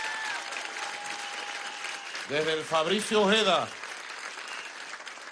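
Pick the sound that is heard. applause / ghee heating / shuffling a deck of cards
applause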